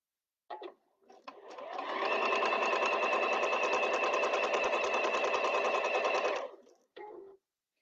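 A sewing machine with an automatic presser-foot lift runs in two quick bursts, then stitches steadily for about four and a half seconds, and ends with one more short burst. The whirring is close and even, with no talking.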